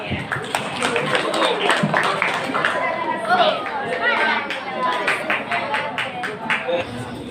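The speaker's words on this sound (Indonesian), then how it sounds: "Tepuk tangan untuk kalian." Audience at a student organization candidates' vision-and-mission event clapping amid lively crowd chatter and cheering, sharp individual claps scattered through overlapping voices.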